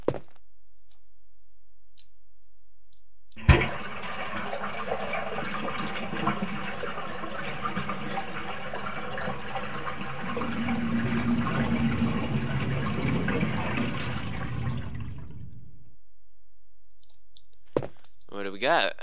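A water-filled bathtub drains in Resident Evil 1, a sharp click followed by a steady rushing gurgle that runs about twelve seconds, thickening toward the end before stopping, with brief sounds afterward.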